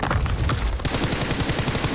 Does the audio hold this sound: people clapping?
no